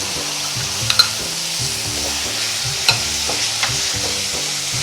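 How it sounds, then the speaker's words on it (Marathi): Coarsely grated onion fries in a pan toward browning for a Nagpur-style patodi, a loud continuous sizzle broken by a few sharp spoon scrapes and clinks, close and without speech. "हा कांदा ब्राऊन होतपर्यंत भाजायचा"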